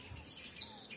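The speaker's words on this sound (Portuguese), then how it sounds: "O passarinho continua a cantar ali." A small bird chirps faintly in a backyard, a few quick high tweets over quiet outdoor background.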